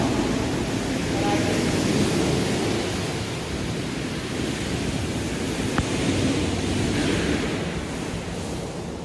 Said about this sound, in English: So I just turn on the hose, and I can get all the way up to the top.